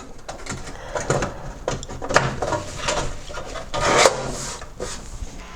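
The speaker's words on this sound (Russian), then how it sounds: "И закрываю крышку." Plastic top cover of a Pioneer DV-600AV-K DVD player being closed after a power-supply repair, a run of scraping, rubbing and clicking handling noises with a louder clack near the end, close up and with no talk.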